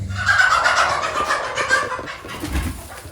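Chickens in a barn coop cluck and chatter steadily at close range, a busy overlapping flock sound with no talking.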